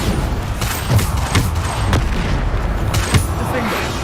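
Spell explosions from Hogwarts Legacy combat boom repeatedly over a dense, noisy game soundscape, with several sharp blasts spaced about half a second to a second apart and a voice calling out spells.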